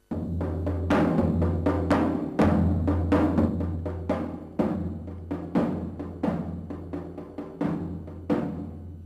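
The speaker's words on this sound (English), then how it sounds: "Now our friend Tankut will play and let you hear the sound of the asma davul," An asma davul, a Turkish suspended drum, struck in a steady pattern of deep booming hits with sharper accents, close and resonant, each stroke ringing out before the next.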